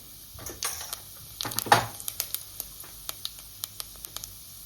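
Onions hiss and sizzle as they drop into hot sesame oil for a Tamil fish curry, a loud burst of frying followed by a steady crackle with small sharp pops.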